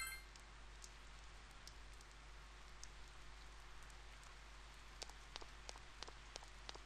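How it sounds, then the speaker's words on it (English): Steady rainfall in the video game Persona 4 hisses throughout, with scattered droplets ticking more sharply toward the end over a low constant rumble. "it's raining"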